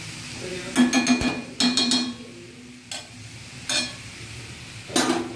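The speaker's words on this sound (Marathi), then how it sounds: "आता मी हलवून ठेवलं आहे, खालून वरून व्यवस्थित करून घेतलेलं आहे" A vegetable curry is stirred in a pan with a spoon, producing several bursts of scraping and soft clattering separated by short pauses, close and moderately loud over a faint background sizzle.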